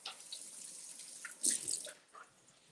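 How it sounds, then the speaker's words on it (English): A kitchen sink tap runs while hands are washed, giving quiet, broken splashes and trickles with a louder burst of spatter midway. "let me clean my hands"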